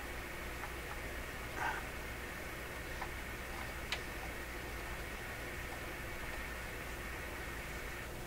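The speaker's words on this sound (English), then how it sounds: "So there's the FM hiss." Steady broadband hiss of FM radio static from an Electrohome Chippendale console radio fills the whole stretch, with a couple of faint brief blips and ticks poking through.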